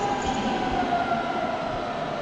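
A train rumbles steadily at Berlin Hauptbahnhof station, with a continuous broadband roar and a faint high tonal whine from the wheels or brakes, close and sustained with no talk.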